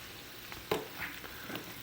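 Shrimp and onions fry in a stir-fry pan, giving a soft, close sizzle with a brief clatter of the spatula; short and fairly quiet.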